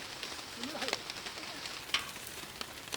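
Steady sizzle of liver frying in a pan, with faint bird coos and a few soft clinks in the background.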